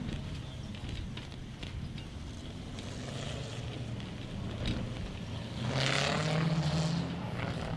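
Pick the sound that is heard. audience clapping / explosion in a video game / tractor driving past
tractor driving past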